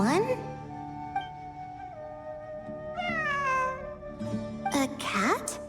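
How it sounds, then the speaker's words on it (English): A cat meows several times in a game-like setting, with clear, fairly close, rising and falling harmonic calls spread through the clip, the loudest near the end, over a steady tonal background. "It really is a cat."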